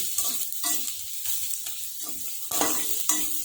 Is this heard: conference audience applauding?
no